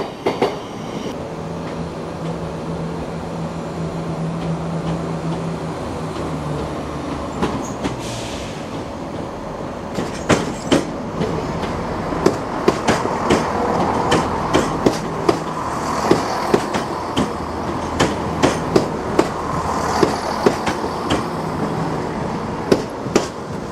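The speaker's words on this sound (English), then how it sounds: "What do we think of the new livery on the cross-country Turbo Star?" A CrossCountry Turbostar diesel unit passes at a station platform. A steady engine drone gives way to a rush of wheel noise and a quick run of clattering rail-joint clicks, loud and close, with no talking.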